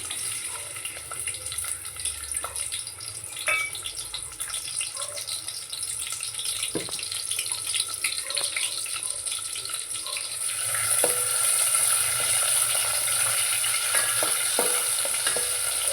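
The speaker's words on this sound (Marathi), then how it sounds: "कांदा टोमॅटो व्यवस्थित फ्राय करून घेऊया" Onion and tomato frying in hot oil, a steady hiss and sizzle throughout with occasional stirring clicks, growing louder and brighter partway through.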